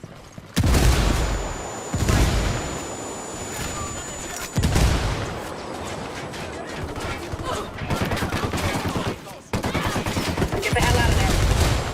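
Heavy gunfire and explosions from a firefight in Tom Clancy's Ghost Recon Wildlands come in loud sustained bursts, broken by brief lulls, with someone shouting over the shooting.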